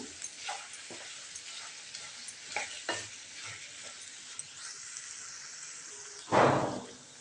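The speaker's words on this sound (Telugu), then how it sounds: "ఇప్పుడు మొత్తం అన్నీ కలిసేలాగా కలుపుకుందాము" Yam curry ingredients are mixed in a pan with scattered spoon taps and scraping at an irregular pace, then a louder clatter near the end, over a faint steady hiss.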